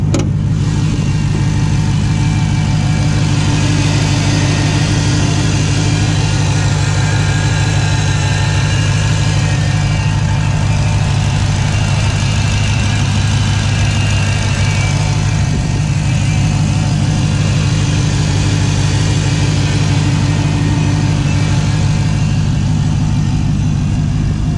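A 2016 Dodge Challenger Hellcat's 6.2-liter V8 idles steadily and loudly up close, a deep rumbling drone with a faint lift in revs partway through, no voices over it.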